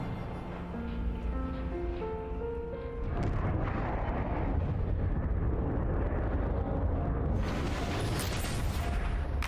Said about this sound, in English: She became a firework.